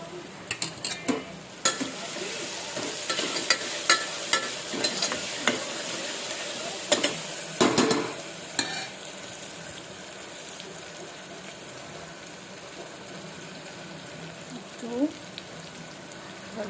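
Garlic chutney frying in a pan for a Gujarati cluster bean curry, a soft continuous sizzle broken by sharp scraping and clattering strokes of a spoon, busiest early on and then quieter.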